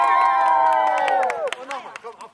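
A group of children cheer loudly with high, sustained shouts that fade out, while a few scattered claps pop through near the end, at a children's acrobatics session.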